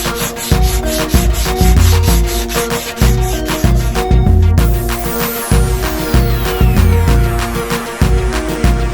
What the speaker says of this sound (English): I also gave them a light sand just so the paint would stick to them